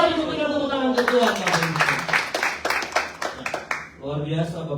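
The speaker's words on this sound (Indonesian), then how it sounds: "Berikan tepuk tangan untuk Tuhan." Congregation clapping during an Indonesian church service, a burst of applause swelling under ongoing speech and then fading, with talk continuing over and after it.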